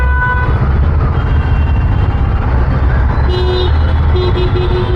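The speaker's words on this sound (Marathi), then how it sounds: "हॉर्न ते एवढे मारत बसतील देव जाणे" Heavy Mumbai traffic roars close by while car horns, including auto-rickshaw horns, toot in short repeated bursts.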